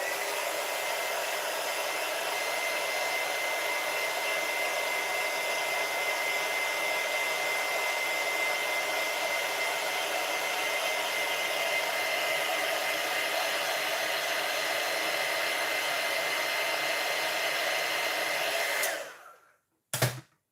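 A hair dryer blows steadily and loudly for about nineteen seconds as hair is dried, a continuous broadband whoosh that then cuts off abruptly, followed by a brief click.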